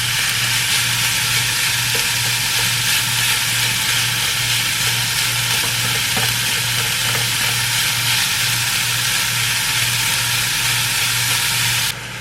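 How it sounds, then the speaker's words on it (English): Meat browns in a pan for eggroll in a bowl with a loud, continuous frying sizzle and a low steady hum underneath. Nobody speaks. "Okay, we've got this all browned up now. That took about 10 minutes."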